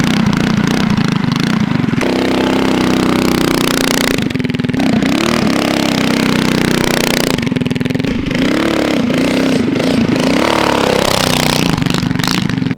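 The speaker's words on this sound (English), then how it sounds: "The trike did amazing in the snow" A mini trike with Maxxis tires revs and putters loudly while riding through snow, its small engine rising and falling in pitch with repeated throttle changes, close and steady.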